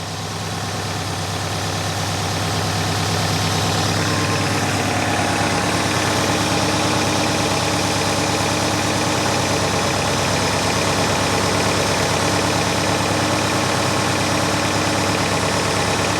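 A 1964 Buick Electra with a once-seized engine runs at idle, a loud, steady, close rumble with a faint ticking knock throughout and nothing else over it.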